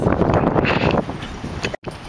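Strong wind gusting at up to 60 mph outside a house, a loud rushing buffet across the microphone that eases off toward the end with a brief dropout.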